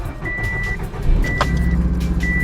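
A 2007 Subaru WRX engine cranks and catches, then settles into a steady low idle rumble, with repeating electronic chime tones sounding over it.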